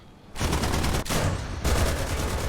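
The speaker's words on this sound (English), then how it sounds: "as you see, it has the MG3 up there" An MG3 machine gun mounted on a tank in the War Thunder video game fires continuous rapid bursts, loud and close, with a brief break near the middle before the firing resumes.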